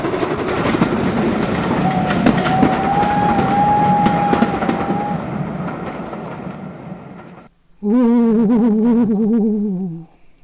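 A heritage train on the Great Central Railway rolls through Rothley Station, a steady loud rumble of wheels with a long sustained whistle-like tone, then a brief gap and a burst of a warbling horn near the end.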